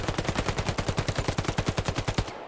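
An MP40 submachine gun fires in Hell Let Loose: one sustained automatic burst of roughly twenty rapid, evenly spaced shots. The loud, close cracks run for about two seconds, then cut off abruptly.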